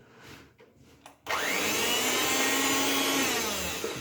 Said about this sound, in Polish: Mikser.